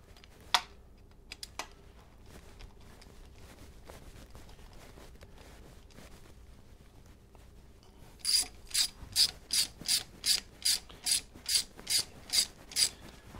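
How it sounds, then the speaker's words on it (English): A ratchet snugs the stator bolts on a Harley Sportster, with a few faint clicks early on and then a run of about a dozen loud, evenly spaced close-up ratcheting strokes near the end. "I'm just snugging all these up right now, and then I'm going to go back and torque them in the same pattern"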